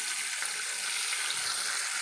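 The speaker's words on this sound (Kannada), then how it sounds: "ನಾವು ಫ್ರೈ ಮಾಡ್ಕೊಳ್ಳೋಣ." Fish pieces coated in fine semolina and cornflour fry in hot oil, a dense, steady hiss and crackle that stays close and loud without a break.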